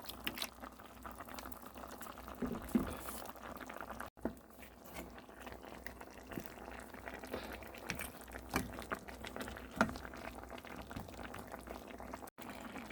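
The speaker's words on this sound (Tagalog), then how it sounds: "Then put the carrots and let it boil." Braised chicken with carrots, seasoned with white wine, simmers in a pot with a steady, soft bubbling and faint liquid noise throughout, quiet and close, with no talking.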